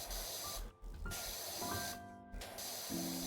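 Pressure washer spraying in PowerWash Simulator 2, a steady close hiss that cuts out in two brief gaps, with faint tonal beeps and dings chiming over the spray.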